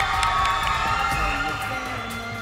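A crowd at a Bollywood-style dance competition elimination round in Arunachal Pradesh claps and cheers, a dense continuous roar of applause with shouts, loud and sustained throughout.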